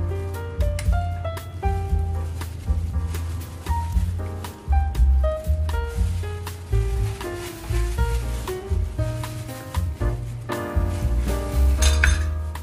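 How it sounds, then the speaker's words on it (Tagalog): A spoon scrapes and clinks against a bowl while it stirs a puto bao dough of flour, grated coconut and coconut milk. The clinks come in a steady repeated rhythm with soft squishing, and music plays behind them. "Haluin lang po natin ng haluin ang ating mixture"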